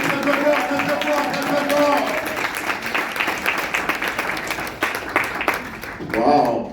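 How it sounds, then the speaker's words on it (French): An audience applauds a speaker at a French-language talk, dense sustained clapping throughout with cheers and a host's voice over it, ending in a louder swell. "Oui, on applaudit très fort, très fort,"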